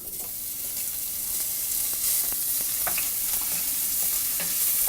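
Pancetta fries in a little olive oil, giving a steady, close sizzle that grows slightly louder, with occasional stirring scrapes in the pan.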